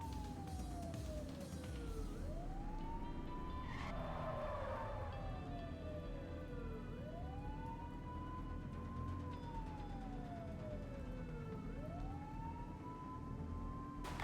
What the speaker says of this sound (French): vous voyez pas que j'ai les sirènes là?